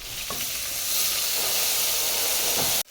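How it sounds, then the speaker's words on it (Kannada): Chopped tomatoes dropped into a hot pan for restaurant-style veg pulav give a loud, steady hissing sizzle with steam that holds for a few seconds, then cuts off abruptly. "ಈಗ ನಾನು ಟೊಮ್ಯಾಟೊ ಹಾಕ್ಕೊಳ್ತಾ ಇದ್ದೀನಿ."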